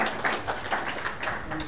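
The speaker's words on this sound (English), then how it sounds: "Kevin, you want to applaud? Go ahead." Audience applause at a Republican women's U.S. Senate candidate forum in Dane County, a steady patter of many hands clapping at moderate volume across the short stretch.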